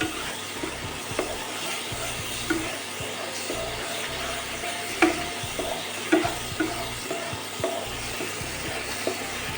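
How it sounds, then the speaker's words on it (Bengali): Spices frying in a pan for potato chops, with a steady soft sizzle and repeated scraping stirs and spatula knocks spread through, fairly close and moderately quiet, no talking. "মশলাটা ভাজা হয়ে গেছে।"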